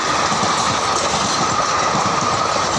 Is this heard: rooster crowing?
no